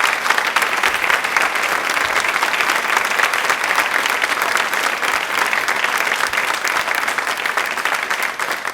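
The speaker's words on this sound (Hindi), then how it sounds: "तालियां अपने लिए एक बार प्लीज जोरदार शोरदार बजाने प्लीज" Loud, dense applause from a studio audience at a Women's Day quiz programme, a steady unbroken wash of clapping sustained throughout.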